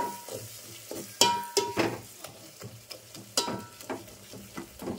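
Tomatoes frying in a pan while being stirred, with a soft sizzle under frequent scraping and clinking strokes of a utensil, close and moderately quiet.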